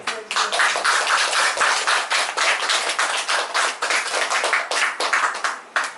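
A group claps steadily and briskly for about six seconds at a Teacher's Day letter reading for a Buddhist monk, dense close hand claps with no talking over them.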